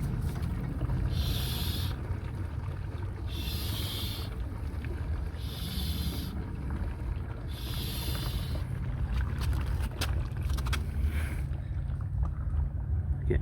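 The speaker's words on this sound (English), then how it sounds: "Give it a few pumps just to see what's left." A hand-operated MITY fluid extractor is pumped during an oil change on a 2016 Range Rover Sport with a 3.0L supercharged V6, giving four rhythmic hissing strokes over a steady low background rumble.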